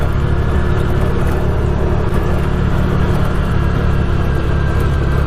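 A Polaris Ranger UTV drives over rough, bumpy ground through snow drifts, its engine a steady, loud rumble with road-like whir that stays constant and close throughout, with no talk.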